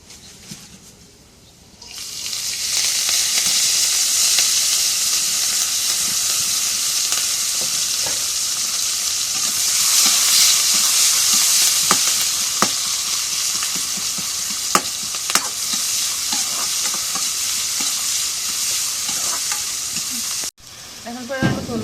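Chopped chili and onion frying in a pan give a loud, steady sizzle that fills the whole stretch, with frequent scraping and clicking stirring strokes. It starts after a short quiet moment and cuts off briefly near the end.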